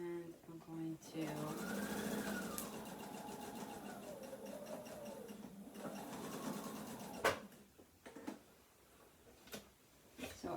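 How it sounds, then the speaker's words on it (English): A sewing machine runs for several seconds stitching a pants leg seam, a steady close motor whir and needle chatter that rises and falls in speed, then stops, followed by a few handling clicks and brief talk. "I just stitched that leg seam, nowhere else"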